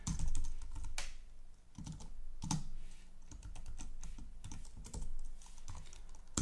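Fingers tapping out HTML code on a computer keyboard, a quiet, close run of uneven clicks and key strikes with brief pauses and no speech.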